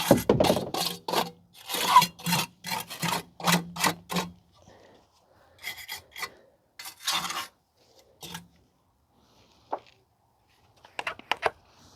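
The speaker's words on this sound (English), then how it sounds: "If there's any rust on the backing plate, you can use a wire brush and clean the rust off" Wire brush scrubbing rust off a rear brake backing plate on a 2010 Toyota Camry, close-up: a quick burst of rapid rasping strokes, then scattered shorter scrubs separated by pauses.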